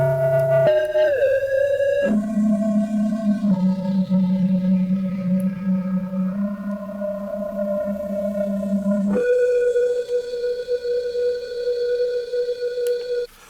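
Sustained tonal drones shift pitch in steps, each smeared into a long, shimmering spectral reverb tail with a glassy, synthetic texture, from the Typhoon spectral clouds algorithm.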